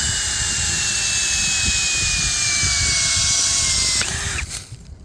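A 12-volt cordless screwdriver drives a screw into live hornbeam wood, a loud close motor whine that slowly drops in pitch under strain for about four seconds, then stops abruptly and spins down.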